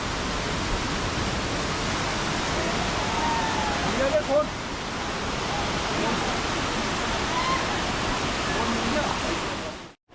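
A waterfall at Amboli in the monsoon roars in a dense, constant rush of water, loud and unbroken throughout, with faint voices briefly in the mix.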